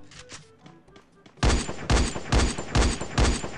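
An SVD sniper rifle fired in a shooting video game, with five loud, booming shots at a steady rhythm about half a second apart, following a brief stretch of quieter game sounds and music.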